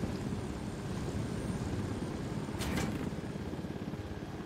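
Helicopter in the video game Ghost Recon Wildlands, a steady low rotor drone and whir holding through the whole stretch at moderate level, with a brief hiss partway through.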